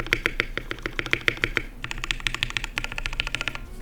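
Rapid keystrokes on a custom mechanical keyboard, crisp clacky presses in quick bursts with a brief pause, close and clear.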